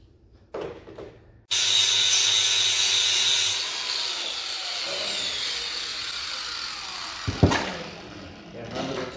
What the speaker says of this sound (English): Do one more grind, and as long as the collar slides over it,